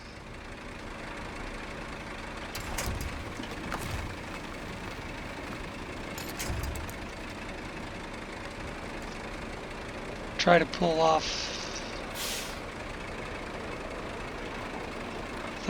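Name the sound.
truck engine in the video game SnowRunner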